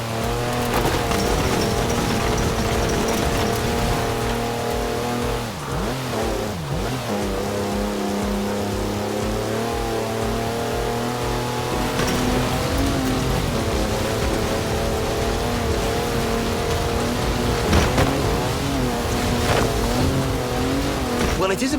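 A Mercedes wagon driven in Forza Horizon 4, a steady, loud engine drone with shifting revs, tire noise and a patter like rain, while someone talks over it through most of the stretch.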